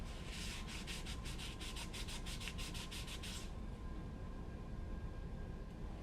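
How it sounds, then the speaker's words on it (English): Surface of a CoPilot 128 print head being wiped clean before a gasket goes on, quick rhythmic rubbing strokes for about three seconds, then only a faint steady hiss. "you want to make sure the surface area where the gasket will be installed is cleaned"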